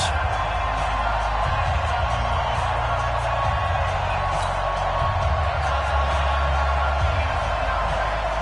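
Stadium crowd noise from an EA Sports NFL game on PS4 before a Houston Texans versus Tennessee Titans matchup, a steady dense roar with swelling cheers running throughout.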